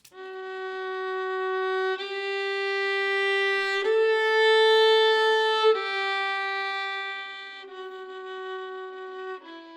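A violin plays slow, sustained half notes one after another, each pitch held about two seconds with smooth bow changes and gentle swells in volume, solo and close.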